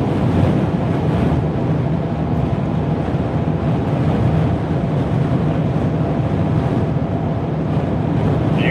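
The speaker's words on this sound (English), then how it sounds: "Probably hear it too, hitting the sides of the vehicle" Gale-force wind in North Dakota roars and buffets steadily against the sides of a vehicle, a dense continuous rush with no talking.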